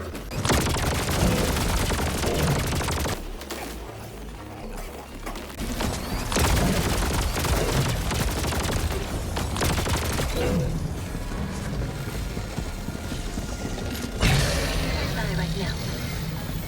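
Sickle weapon firing in Helldivers 2, loud bursts of rapid gunfire with booming impacts separated by short quieter gaps, under a voice talking.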